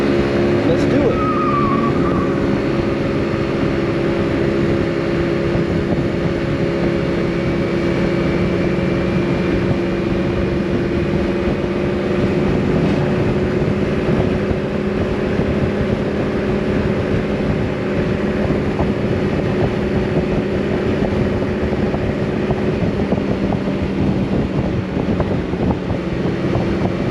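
A Yamaha C3 scooter, Need for Speed Edition, cruising at about 49 mph on a road, with a steady droning engine hum and heavy wind buffeting across the microphone, continuous and loud throughout.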